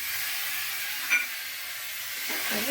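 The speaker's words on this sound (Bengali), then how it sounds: "ভালোভাবে একসঙ্গে মিক্স করে ভেজে নেব" Chopped tomato with Kashmiri chilli powder and spices frying in a pan gives a steady, soft hissing sizzle throughout, with a brief scrape of stirring near the middle and no talking.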